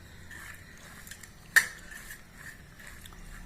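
A spoon stirring coconut, flattened rice and jaggery in a metal pan, with soft scraping throughout and one sharp clink of utensil against the pan midway, quiet and close.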